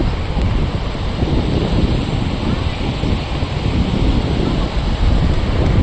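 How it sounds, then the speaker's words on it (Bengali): Fast water pours through a flooded, rain-swollen river, a loud, dense, unbroken roar heard close up, with some wind buffeting. "দেখছেন এই জলটা পড়ছে জলটা কত স্পিডে আসছে"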